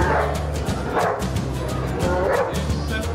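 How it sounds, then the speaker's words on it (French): A Chihuahua mix dog barking in repeated short yips over a steady low hum and background murmur, fairly close and loud. "Chihuahua chien nu"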